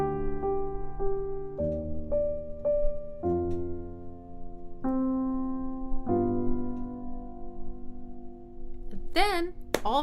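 Piano plays a song section, with a tritone added over the B: spaced single notes and chords ring out one after another at a moderate pace, fairly quiet, before a brief vocal sound at the end.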